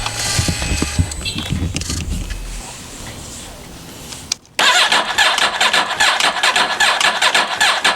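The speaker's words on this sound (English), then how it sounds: "I haven't put the tender on this bike yet, so hopefully it doesn't give me any trouble starting up" A Yamaha R6 sport motorcycle, not yet on a battery tender, cranks with a few uneven attempts, then its engine catches and settles into a loud, steady close running roar.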